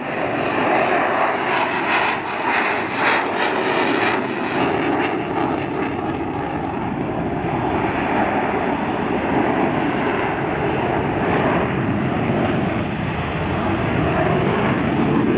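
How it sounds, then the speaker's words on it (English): Saab JAS 39 Gripen fighter jets dogfight at an air show in Sweden, their engines a loud, continuous roar that swells and fades slightly as they pass, with no talking. "This is known as a dogfight, and you can see how the jet that's being chased is deploying flares to avoid getting shot by missiles."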